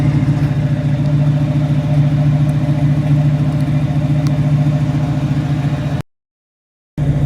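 A 1968 Chevrolet Camaro convertible V8 engine idles with a deep, steady, close rumble that runs for about six seconds before a brief cutout.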